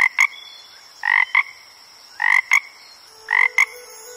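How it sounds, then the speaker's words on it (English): A frog croaks in a jungle setting within a children's song, giving loud, close paired croaks in three evenly spaced bursts with short gaps between them and no talking over them. "It's a frog!"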